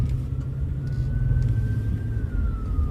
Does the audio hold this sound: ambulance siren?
yes